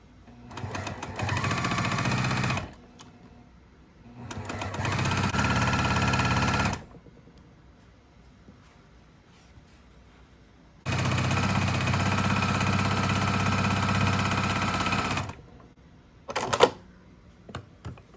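A sewing machine stitches quilt strips with a short stitch length along a quarter-inch seam. It runs in three long, steady, whirring bursts separated by quiet pauses, then gives a brief final burst. It is close and loud, with no talking.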